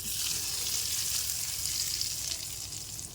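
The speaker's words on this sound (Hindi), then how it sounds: "अब यहाँ पे इसके ऊपर तड़का देंगे ये" Hot ghee sizzling and crackling steadily in a pan as a tempering for a minced meat and tomato dish, a close, bright hiss that holds without pause.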